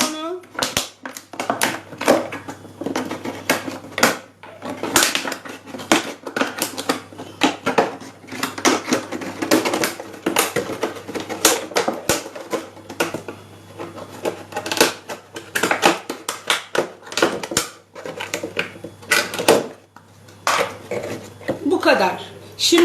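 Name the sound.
cutting plastic with scissors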